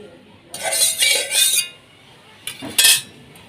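A wok set down on a stovetop, two close metallic clanks and scrapes of metal on metal with a brief pause between, otherwise quiet.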